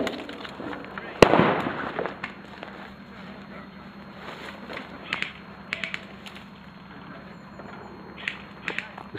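A grenade explodes nearby as one sharp, loud blast, with a short rumbling tail, followed by scattered smaller pops and snaps further off over a steady low background hum.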